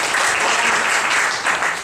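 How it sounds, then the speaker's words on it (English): An audience at a Hong Kong panel forum and film screening gives dense, steady applause, many hands clapping together at an even loudness throughout. "So round of applause to Gina."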